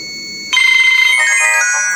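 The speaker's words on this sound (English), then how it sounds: "that's the meter calling me" A smartphone ringtone plays as a smart energy meter places a call to it, beginning abruptly after a short lead-in and continuing as a steady, loud, close electronic melody with no talking.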